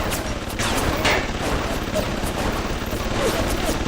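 Sustained automatic turret fire in a BioShock level, a steady rattling barrage filling the whole stretch, with someone talking faintly beneath it.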